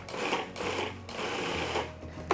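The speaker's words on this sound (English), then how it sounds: "It kind of moves the food around inside the food processor a little bit more." A food processor pulses fresh herbs for green butter in short bursts of whirring motor and chopping blades, close and fairly quiet, with no talk.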